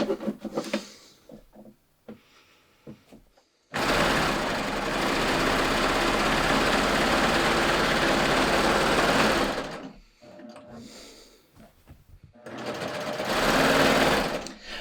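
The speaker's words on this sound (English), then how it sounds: "I'm going to start with both my needles sunk into the fabric, and then I'm just going to start stitching." A Baby Lock Ovation serger stitching fabric in a five-thread safety stitch runs as a loud, steady whir for about six seconds, with quieter starts and stops of the machine before and after.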